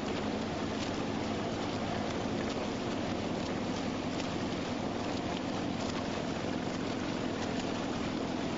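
Motorboat engine at a triathlon in Almere, a steady droning hum heard continuously and fairly loud, mixed with wind noise buffeting the microphone and no clear speech.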